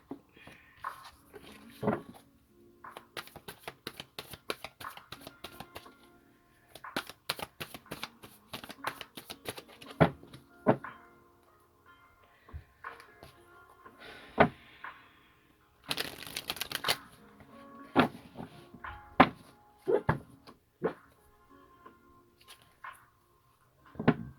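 Cards riffle and shuffle in repeated quick bursts, with crisp flutters and taps between them, close up and fairly loud.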